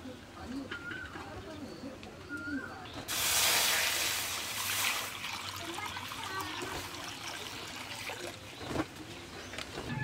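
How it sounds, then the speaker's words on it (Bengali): Water is poured into a wok on a lit stove to boil eggs, a brief splashing hiss of about two seconds that rises over quieter kitchen background noise and then fades. "এবার ডিমগুলো সেদ্ধ করার জন্য কড়াতে জল দিয়ে দেবো"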